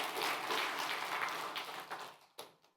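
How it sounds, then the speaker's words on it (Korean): A church congregation claps together during a Sunday sermon: a dense, even patter of many hands that thins out and fades toward the end. "박수 쳐봐 한번."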